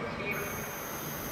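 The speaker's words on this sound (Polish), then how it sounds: "o, tutaj do nas pociąg idzie" A train arrives at Katowice railway station with a loud, sustained high-pitched wheel squeal over a rumbling rolling noise.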